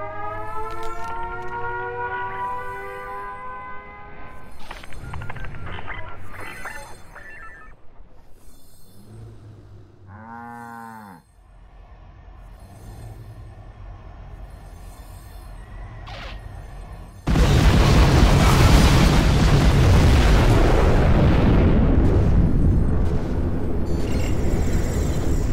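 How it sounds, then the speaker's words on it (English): Nuclear missile launch in C&C Generals Zero Hour: a rising and falling civil-defense siren wails, then after a pause a sudden massive blast erupts into a long, loud roaring rumble that fills the rest. "Launching nuclear missile."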